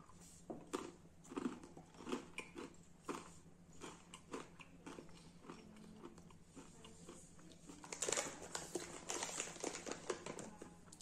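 Someone bites into and chews crunchy pretzel snacks coated entirely in sweet peanut butter, giving a string of close, crisp crunches and mouth sounds that grow louder near the end, with no talking.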